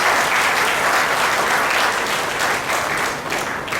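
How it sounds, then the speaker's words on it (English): A large audience at a coaching institute's annual prize night applauds successful JEE Advanced students, a dense, loud, sustained wash of clapping throughout, with no speech over it. "A big round of applause for all those people who have been successful."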